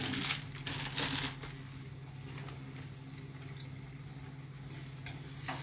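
Cumin powder is stirred into a frying egg tarka in a pan, giving a soft scraping stir and low sizzle, with a few louder spatula clicks at the start before settling into a quiet, steady fry.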